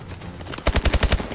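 A short burst of automatic gunfire in the shooter game Advanced Warfare: about seven rapid, evenly spaced, punchy shots, loud and close after a quiet start.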